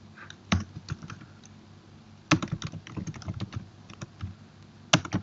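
Code typed on a computer keyboard for an ASP.NET MVC project. Quiet, close key clicks arrive in irregular bursts with short pauses between them, and nobody speaks.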